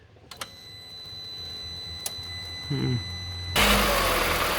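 A Volkswagen Golf with misfires and a recently replaced fuel pump cranks over after a few clicks, then catches and settles into a louder steady idle near the end, with brief voices in between.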